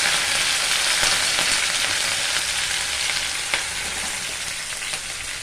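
Green chillies and curry leaves fry in hot oil, giving a dense, continuous sizzle with scattered crackles and no one talking.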